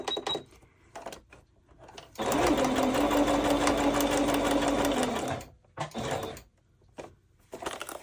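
A sewing machine running a zigzag stitch, a steady fast mechanical whir for about three seconds, framed by short stops and clicks of the needle being positioned.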